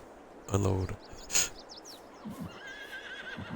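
A horse in Farming Simulator 22 gives a loud, close whinny, followed by a second shrill call, with light hoof clops and faint bird chirps in the background.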